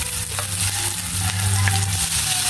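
Ginger is stirred into a sizzling frying pan, giving a continuous crackling hiss with faint scraping of the stirring, close and steady throughout.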